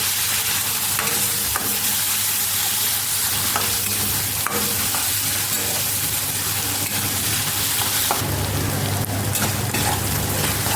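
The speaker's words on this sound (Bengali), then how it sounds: "এই তেলে দিয়ে দিয়ে দেবো পেঁয়াজ কুচি দিয়ে ভালো করে আমি পেঁয়াজটাকে ভেজে নেবো" Chopped onion frying in oil left over from fried fish, a loud dense crackling sizzle with spatula stirring sounds throughout, intensifying near the end as the pieces are tossed.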